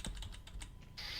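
Fingers tap a computer keyboard in a quick run of light, close clicks. The keys briefly pause, and then a steadier hiss follows.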